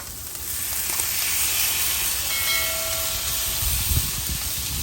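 A smash burger with thin sliced onions sizzles on a Blackstone griddle, a loud, dense, continuous hiss that holds steady throughout, with no talking.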